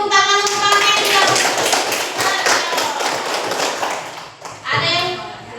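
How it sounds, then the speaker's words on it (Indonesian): A classroom audience applauding, a dense burst of hand claps mixed with children's voices, loud and close, fading briefly before a final short surge of clapping. "beri tepuk tangan untuk kami yang sudah"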